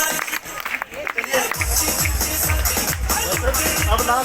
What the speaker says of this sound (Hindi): एक बार सर के लिए जबरदस्त तालियां हो जाती है